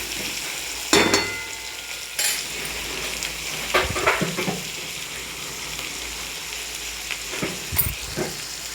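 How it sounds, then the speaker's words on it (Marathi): Onion fries and is stirred in a pan over a high gas flame, giving a steady sizzle close up. Periodic scraping knocks from a spoon against the pan punctuate the continuous frying hiss. "गॅस मोठा केलेला आहे मी। कांदा आपला चांगला परतून घ्यायचा आहे आपल्याला।"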